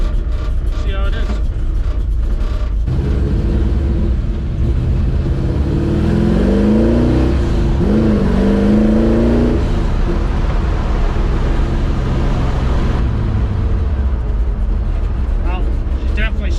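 A 1953 Chevrolet pickup engine runs rich on light throttle while driving, a loud steady drone that swells into revving mid-way and then eases, with voices at times.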